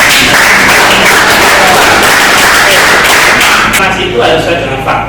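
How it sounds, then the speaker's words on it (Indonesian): An audience in a classroom lesson gives a burst of dense clapping, loud and close, fading after a few seconds. "Tepuk tangan dong."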